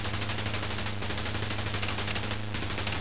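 Rapid 20mm cannon fire from a fighter plane in the flight combat game Chuck Yeager's Air Combat, a dense continuous burst of shots over a low engine drone, loud and close throughout.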